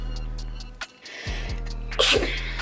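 One loud, close sneeze bursting out near the end, preceded by faint background hum and small clicks.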